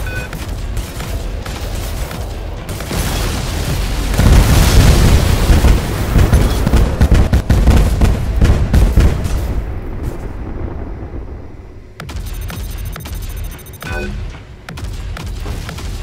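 An enemy ship blows up in a space shooter game, a loud rumbling explosion that swells in the middle and fades out, with further crackling blasts and effects continuing near the close.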